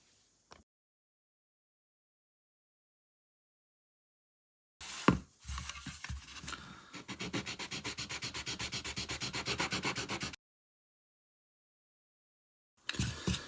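A close, rasping grind of a drill against the plastic frame of a Tokyo Marui Glock 19 airsoft pistol, rounding its edges in short repeated strokes for several seconds, surrounded by silence.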